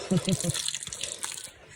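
A waterfall in the Gir forest gushes in a continuous broadband rush, with a brief human voice at the start.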